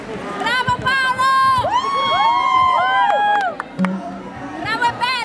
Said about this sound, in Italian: applauso. Bravo Paolo!